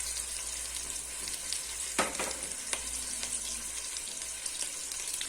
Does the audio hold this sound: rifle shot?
no